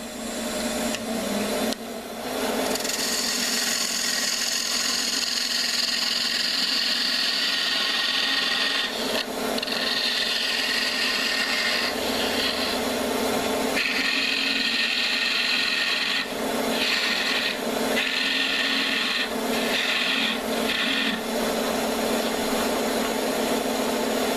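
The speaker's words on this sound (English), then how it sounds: "Now we'll get a little clearance in here so we can part it off." A wood lathe tool cuts into a spinning wooden throw top to make clearance before parting it off, a steady loud rasping scrape with brief pauses and changes in pitch as the cut goes on.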